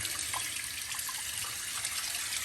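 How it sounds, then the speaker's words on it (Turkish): Running water pours steadily over a combi boiler fan as it is rinsed clean, a continuous close hiss of splashing with faint droplet patters and no voices. "Şimdi yıkadık fanımızı."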